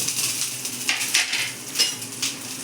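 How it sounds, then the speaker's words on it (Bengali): A spiced tempering poured into mitha dal, a sweet lentil dish for Jagannath, hisses steadily in the pot, with brief louder bursts of sizzle and faint clinks of utensils. "এবার আমি এই তরকাটা ডালের মধ্যে ঢেলে দেবো।"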